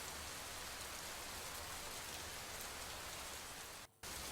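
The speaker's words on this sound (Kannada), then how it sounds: "ಕೇರಳ ಮಳೆ ಮಧ್ಯೆ ಕೊಡಗು ಜಿಲ್ಲೆಯಲ್ಲೂ ಕೂಡ ಅಬ್ಬರಿಸಿ ಮಳೆಯಾಗ್ತಾ ಇದೆ." Heavy rain pours steadily in Kodagu district, Karnataka, during a red-alert monsoon spell, a dense, constant hiss of drops on surfaces that fills the whole clip and cuts off briefly near the end.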